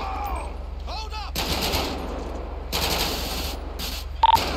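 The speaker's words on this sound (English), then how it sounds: "shots fired" Bursts of gunfire in GTA V during a police patrol, several loud rattling volleys separated by pauses over a low steady game soundtrack, with a short electronic tone near the end.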